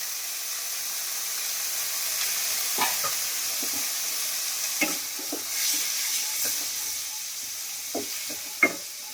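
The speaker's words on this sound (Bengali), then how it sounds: "গাজরটা আগে ভেজে নিই হালকা করে।" Carrot pieces fry lightly in a kadai, giving a steady soft sizzle with occasional stirring clacks and scrapes throughout, close and moderately quiet, with no talk.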